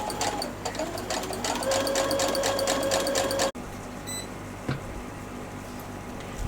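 A sewing machine runs steadily while stitching a fabric hem, its motor hum and rapid needle chatter holding for about three and a half seconds before stopping abruptly, followed by quieter handling sounds and a brief click.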